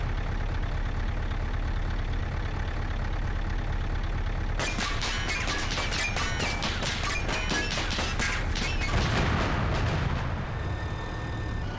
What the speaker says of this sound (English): It's that heavy cannon right there firing. Now they're firing with MG.